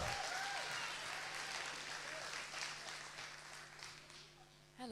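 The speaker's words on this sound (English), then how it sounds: "Another round of applause for Stella Tunen, please." Youth zone launch event audience applauding as a speaker walks on stage, a broad wash of clapping that holds steady and slowly thins out, with cheers and voices mixed in.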